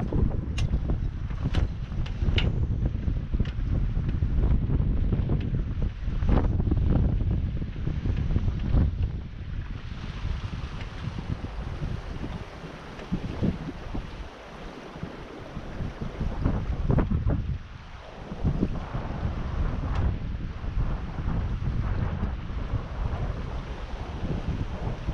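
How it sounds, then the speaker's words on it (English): Strong, gusting wind roars and buffets around a sailboat at sea, a continuous loud rush with surging and easing gusts and faint water movement beneath, no talk. "the wind is swirling at the moment."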